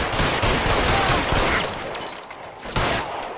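Rapid gunfire in the LA Noire video game, a loud volley of overlapping close shots that eases slightly and then flares again near the end, with no voices heard.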